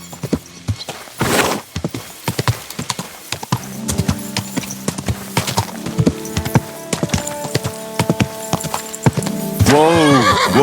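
In Kingdom Come: Deliverance II, a horse whinnies loudly near the end, preceded by steady clip-clopping hooves and clattering, with a few brief voice sounds mixed in.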